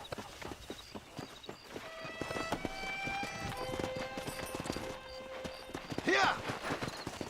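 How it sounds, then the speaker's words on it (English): Horses in the Red Dead Redemption video game trot with quick clip-clopping hooves, faint overall, followed by a sharp neigh near the end, with a character speaking over it. "Let's see if we can't wrangle some horses."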